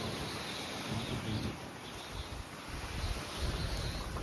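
Strong wind roars steadily against the microphone in gusts at an archaeological cemetery in the Peloponnese, Greece, a loud continuous rushing with possible surf in the background.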